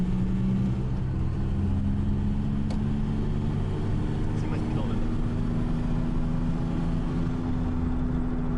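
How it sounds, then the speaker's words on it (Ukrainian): An Audi 100 C3 with a 1.9 TDI turbo diesel pulls away from inside the cabin, its engine drone rising steadily in pitch through the gears, loud and continuous throughout. "Демонструю вам роботу даного автомобіля з турбо. Це розгон без еврімода."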